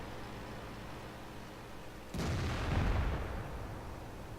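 A single heavy tank cannon shot in a tank video game booms suddenly out of a low engine rumble, followed by a rolling, rumbling tail that fades over a couple of seconds.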